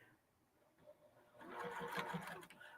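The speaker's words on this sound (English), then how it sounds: "sew this together." A sewing machine stitching a reversible handbag together starts faintly and then runs in a steady, close mechanical whir for about a second and a half.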